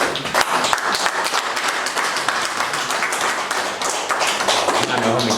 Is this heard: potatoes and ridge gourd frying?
no